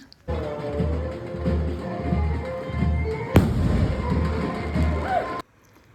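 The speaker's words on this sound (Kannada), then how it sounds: "ನೋಡಿ, ಇವಾಗ ಪಟಾಕಿ ಹೊಡಿತಾ ಇದ್ದಾರೆ." Firecrackers crackle and pop in a dense, continuous burst at a village temple festival procession, with a sharp louder blast midway before stopping abruptly; distant crowd noise underneath.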